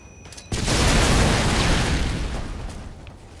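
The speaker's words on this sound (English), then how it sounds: "Damn, a whole lot of explosion." Explosions and gunfire in Modern Warfare 2 Domination on the Afghan map: a loud blast erupts after a half-second lull, then a dense rumbling roar of blasts and shots that slowly fades.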